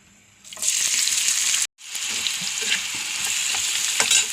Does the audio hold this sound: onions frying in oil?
yes